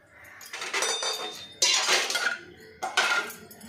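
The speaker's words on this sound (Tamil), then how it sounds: "எல்லாம் எடுத்து நம்ம சிங்கில் போட்டுடலாம்" Dishes and cutlery clatter in several bursts, plates clinking and scraping against each other as they are put into a kitchen sink nearby.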